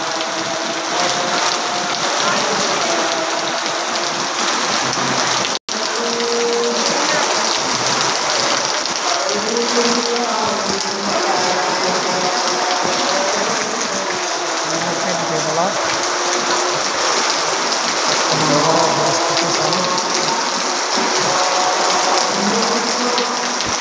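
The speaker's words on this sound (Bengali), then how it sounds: "দেখেন বর্তমান বৃষ্টির অবস্থা বৃষ্টি পড়তেছে দেখেন সব জায়গা দিয়ে" Heavy rain pours down in Satkania, Chittagong, a loud, dense, unbroken hiss drumming on surfaces throughout, with a voice talking over it; no distinct thunderclap stands out.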